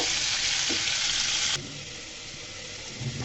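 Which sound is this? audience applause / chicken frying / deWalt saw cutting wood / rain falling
chicken frying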